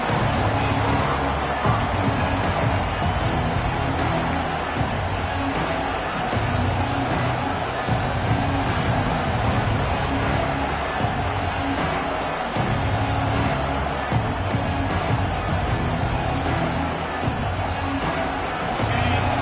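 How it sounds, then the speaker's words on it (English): Dense, roaring stadium crowd noise at a college football game in a video game, continuous, a broad wash of many voices with scattered cheers, loud and unbroken throughout. "Listen to the crowd energy here in the early going."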